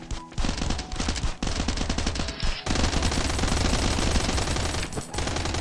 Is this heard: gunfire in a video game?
yes